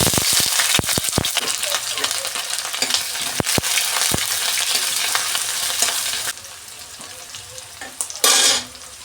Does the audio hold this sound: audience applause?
no